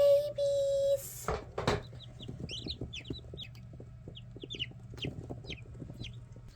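Freshly hatched chicks give scattered high, thin cheeps over a low steady hum, after an opening tone and a couple of bumps.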